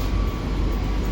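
A train rumbles through Ciawi railway station in Tasikmalaya Regency on Java. A steady, loud low rumble of rolling wheels carries on without a break, with no one speaking.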